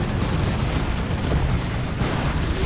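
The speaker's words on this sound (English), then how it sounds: "Are the Venom Brood firing? They are firing." Venom Brood units firing on an Ork battle wagon in the real-time strategy game Dawn of War 2, a dense, continuous rumble of explosive booms and blasts filling the whole stretch, loud and unbroken with no talk.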